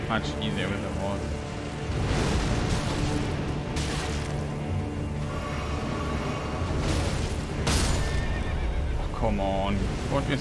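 A horse in a snowy video game world neighs and whinnies loudly several times, over continuous game sound, wind and rumbling effects, with a voice talking over parts of it.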